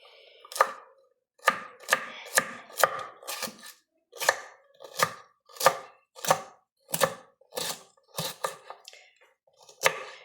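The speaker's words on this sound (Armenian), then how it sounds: "կտրտեմ։ Բարակ շերտերի բաժանեմ։" A knife chops food into thin slices on a board in a kitchen in Greece, about a dozen sharp, close cuts in an uneven rhythm with short pauses between strokes.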